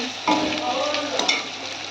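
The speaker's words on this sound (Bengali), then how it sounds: "লঙ্কার গুঁড়ো দিয়ে নাড়াচাড়া করছি" Chili powder stirred into onions and tomatoes frying in a pan for a dhaba-style egg tarka, a steady sizzle with scraping spatula strokes running throughout, close and fairly loud.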